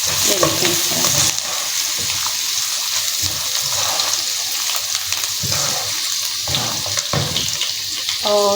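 Green chili, ginger-garlic paste and cumin sizzle loudly in a pan for brinjal bharta, with continuous frying hiss and intermittent scraping stirs throughout, close up and without talk.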